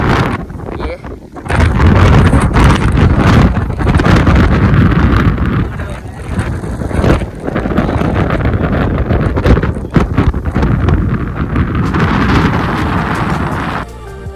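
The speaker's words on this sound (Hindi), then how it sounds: "फ़िलहाल ऊपर काफ़ी हवा चल रही थी" Strong wind gusts across the summit of Bhairavgad Fort, a mountain fort in India, roaring steadily and buffeting the microphone close-up for most of the stretch, rising sharply after a brief quieter opening.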